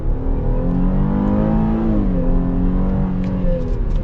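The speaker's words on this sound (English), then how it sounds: "See, that V6 is pretty peppy. It gets up to speed." A 2022 Chevy Traverse RS with its V6 engine in two-wheel drive accelerates from inside the cabin, a steady rising engine drone that swells and shifts pitch as it climbs through gears.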